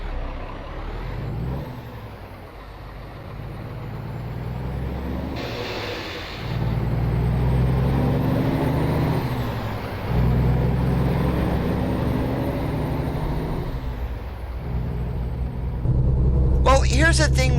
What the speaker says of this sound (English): The X15 sounds, they are real truck sounds.